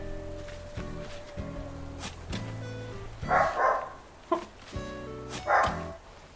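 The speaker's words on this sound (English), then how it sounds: "hopefully that barking is not too loud for you" A dog barks in short bursts of two or three, moderately loud and close, over a steady tonal game-music background, with gaps between the outbursts.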